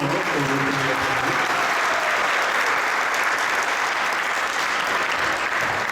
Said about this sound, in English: Let's do a bigger round of applause once more for Rupanuga Prabhu.